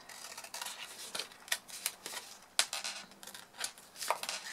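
Paper snipped with scissors, a steady run of crisp close cuts at an uneven rhythm, fairly quiet, with no voices.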